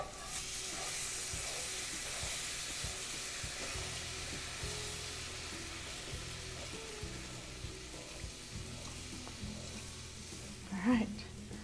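Mushrooms for a stroganoff sizzle steadily in a pan while being stirred, a continuous hiss with faint scraping strokes and a small clatter near the end.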